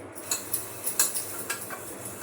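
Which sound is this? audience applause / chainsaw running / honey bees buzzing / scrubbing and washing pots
scrubbing and washing pots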